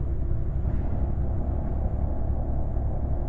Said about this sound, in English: That rumble strip sounds different.